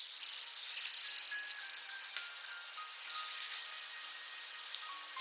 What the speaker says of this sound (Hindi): घी गरम करेंगे और उसमें पोटैटो को भूनेंगे